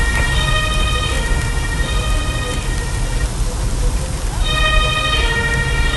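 An ambulance siren in the Emergency (2023) game wails steadily with a repeating tonal pattern over a constant noisy rain-like background, loud and continuous, pausing briefly mid-way before resuming.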